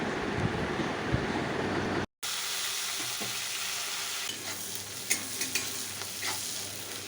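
Dried chili, bay leaf, cardamom and onion fry in hot oil, sizzling steadily close to the pan with stirring scrapes. A brief dropout interrupts the sizzle before it resumes.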